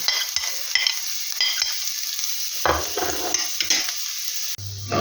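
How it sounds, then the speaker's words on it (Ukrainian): Chopped onion fries in oil with a constant bright sizzle, broken by several stirring scrapes and knocks of a utensil in the pan. "Цибуля от підсмажилася вже так трошечки."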